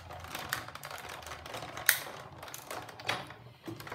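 A die-cutting machine runs a frog die with a layering circle framelit through standard cutting pads, giving a close mechanical grind with a few sharp clicks and ratcheting ticks spread across the pass.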